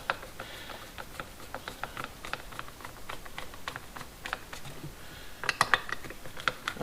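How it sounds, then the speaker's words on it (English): Small metallic clicks and light ratcheting ring out as a distributor rotor is removed from a Chevy engine, sparse taps and handling noises close by over a low steady background hum, with a brighter cluster of clicks near the end. "Now let's take this rotor off."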